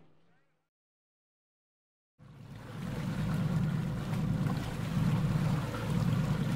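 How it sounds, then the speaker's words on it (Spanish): An outboard motorboat on open water, starting after about two seconds of near silence and then running loud and steady with a low engine drone, wind and splashing waves, no talking. "Lancha fuera borda."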